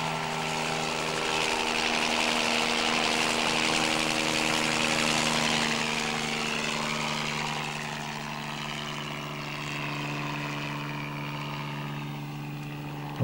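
A helicopter's steady rotor and engine drone fills the air throughout, loud and close, carrying a load of wind dampers for installation, easing slightly in the second half.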